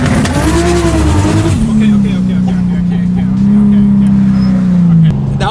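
A twin-turbo Audi R8 pulls hard with a loud, sustained engine drone heard from inside the car, the pitch rising then levelling off as it accelerates, with people talking briefly over it.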